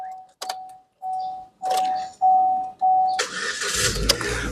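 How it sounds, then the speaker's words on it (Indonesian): A 2013 Chevrolet Spin 1.5 LTZ automatic gives a series of evenly spaced warning chimes, then its engine cranks and catches with a loud burst that settles into a rough running rumble. "Oke, kita coba start mobil ya."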